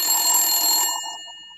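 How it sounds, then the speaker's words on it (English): A loud, clear telephone bell rings once in a white courtesy phone call effect. The single bright ring sounds close, then fades out on its own over about a second. "Please pick up the white courtesy phone."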